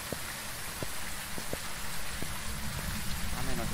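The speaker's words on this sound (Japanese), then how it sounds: "おー、雨ですね、雨です" Steady rain pours down in a spooky ghost-hunting video game, a dense continuous hiss with scattered sharper drops and taps throughout, filling the scene without any talk.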